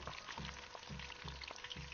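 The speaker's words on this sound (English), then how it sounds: "Do you guys hear that sizzle?" Salmon skin sizzles in a pan, a steady crackling fry with a low rhythmic hum pulsing underneath, soft and close.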